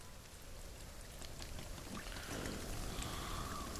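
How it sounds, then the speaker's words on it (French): Steady rain in the survival video game The Forest, a dense, even hiss of falling water that is fairly faint and swells slightly louder toward the end, with no voices. "Oh, il y a full pluie là."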